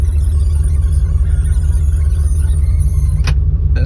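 Chevy Corvette with a tuned-port fuel-injected engine idling, a loud, steady, close low rumble with a faint whine above it, continuous throughout with a brief click near the end.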